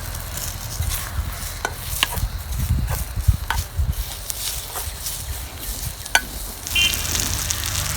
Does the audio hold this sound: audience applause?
no